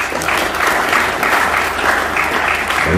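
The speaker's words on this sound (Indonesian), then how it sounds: "Tepuk tangan." An audience at a seminar in Cirebon applauds, a loud, sustained wash of clapping from many hands that keeps a steady level throughout.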